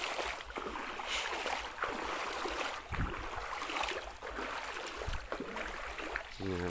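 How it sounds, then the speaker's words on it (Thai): A clear stream flows without pause past a rural garden home, making a faint, even rush of running water with no voices. "น้ำไหลตลอด"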